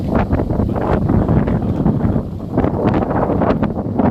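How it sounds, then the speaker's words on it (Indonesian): Strong wind buffets an outdoor microphone in Bulukumba, a loud, constant roaring rumble that swells and dips without letup and carries no voices. "karena di daerah ini cukup deras angin, Tribuners, jadi deras sekali"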